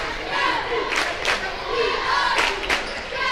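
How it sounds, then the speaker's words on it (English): A basketball crowd roaring and cheering as cheerleaders pump them up, a loud, continuous mass of voices with swelling shouts rising and falling. "The cheerleaders getting the crowd pumped up"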